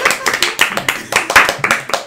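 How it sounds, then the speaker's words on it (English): A small group at someone's home claps hands in quick, uneven bursts during a Halloween costume podcast recording, sharp close slaps repeating for a couple of seconds with a little voice mixed in. "Clap, damn you!"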